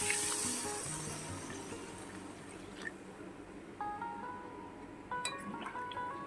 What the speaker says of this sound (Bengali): এই পর্যায়ে আমি দিয়ে দেব পরিমাণ মতন জল